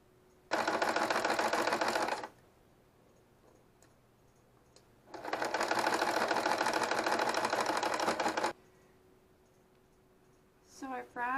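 A sewing machine stitches a simple hem on a quilt border in two loud, steady bursts of rapid stitching separated by a quiet pause, with a voice speaking briefly at the very end.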